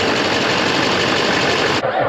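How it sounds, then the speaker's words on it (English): Chevrolet Silverado pickup engine struggling to start: loud, dense, rapid mechanical chatter from the cranking engine, close and continuous for about two seconds before cutting off abruptly. "listen to the engine as it wants to start up."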